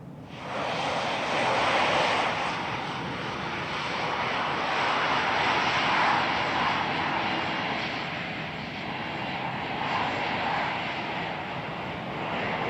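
Airbus airliner engines at Phoenix Sky Harbor in Microsoft Flight Simulator 2020 make a broad, steady jet roar. It swells and eases a little as the plane passes and stays loud and continuous the whole time.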